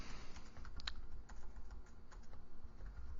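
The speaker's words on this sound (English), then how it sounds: "we're going to type in" Steady stream of clicks from a computer keyboard as code is typed, close and fairly quiet with a constant background hum and no talking.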